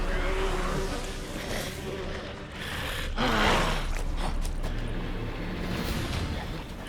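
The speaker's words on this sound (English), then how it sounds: "What are these bees doing? Swarming me!" Bees swarm in The Witcher 3, a dense buzzing drone that runs steadily throughout, rising and falling slightly, with other game sounds beneath and no talk.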